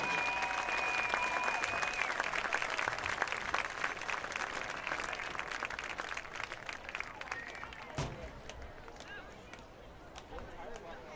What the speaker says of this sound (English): Join me one more time in giving one more loud round of applause on being the newest MTHS Athletic Hall of Fame members